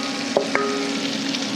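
Onions going into a pan of melted butter and olive oil for French onion soup, giving a steady moderate sizzle with a couple of brief clicks near the start.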